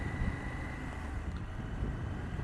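Strong gusty wind buffets a rider on a KTM 790 Adventure motorcycle, a constant roaring rush that fills the whole clip with no pauses and no voices.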